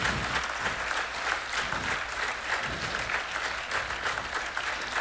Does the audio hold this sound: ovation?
yes